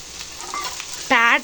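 Potatoes tossed into a pan of golden-browned onions give a soft, steady sizzle with light stirring, close by, ending in a brief louder tonal chirp.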